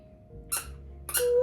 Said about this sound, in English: I had to go get the squeaky toy out of his mouth